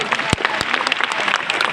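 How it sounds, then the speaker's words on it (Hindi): Loud audience applause at a Birsa Munda Jayanti gathering in Nagpur, a dense burst of many hands clapping close by, steady and brief. "एक बार जोरदार तालियां होंगी"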